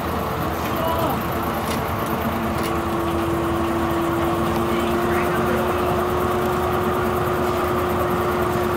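Circle sawmill engine at a fall festival being brought up to speed with the blade spinning, a loud steady drone with a sustained tonal hum, heard under a voice.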